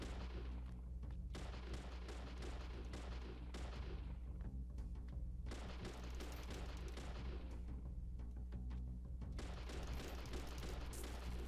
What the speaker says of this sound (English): I do want to shoot this guy down too.